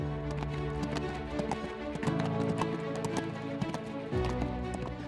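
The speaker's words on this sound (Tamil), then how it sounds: "சந்தோஷத்தில் அவனும் கிளம்பி அவனோட குதிரையில் பறக்கிறான்." A horse gallops in a steady clip-clop of hooves that runs close and continuous under a dense musical backdrop, with no voices.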